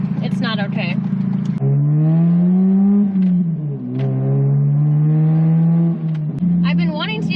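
A wide-body Mazda RX8 with a rotary engine and only one exhaust resonator drones loudly from inside the car. Its pitch rises and falls steadily, with brief quick revs at the start and end.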